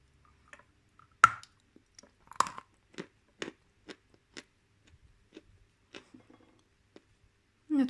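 Bashkir clay being bitten and chewed close up, a sparse series of sharp crunchy clicks and creaks spaced about a second apart against near silence.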